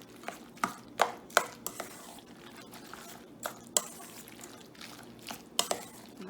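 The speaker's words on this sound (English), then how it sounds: "I'm going to slice my zucchini." Zucchini being sliced with a knife on a cutting board, giving a series of sharp, irregular chopping taps spread across a quiet kitchen background.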